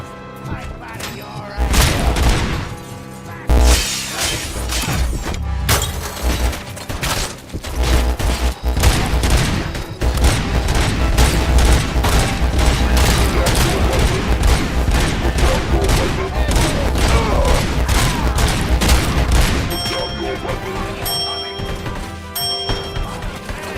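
Loud, sustained video game gunfire from the first-person shooter RoboCop: Rogue City, as enemies are shot and blown up. Rapid continuous shots run through the whole stretch, punctuated by heavy booms and thuds, and a voice is heard at times.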